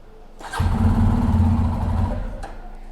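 A fuel-injected motorcycle engine cranks and catches, then runs at a steady low idle for a couple of seconds before dropping away, loud and close with no talk.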